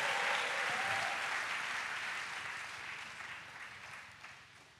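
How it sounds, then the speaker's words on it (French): Church congregation applauding at an evangelism school gathering in Abidjan, a dense wash of clapping that starts loud and gradually thins and fades over several seconds, with no talk over it. "Oui, applaudissons la, la, la."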